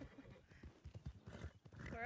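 Horses in a video game gallop with rapid clip-clop hoofbeats and a whinny rising at the end, dense and busy, while someone talks excitedly over them.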